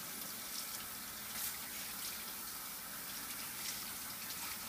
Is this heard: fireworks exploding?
no